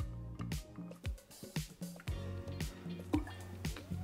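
Sugar syrup pours into a cocktail shaker, giving soft close dripping and liquid trickles in an uneven patter, quiet and without talk.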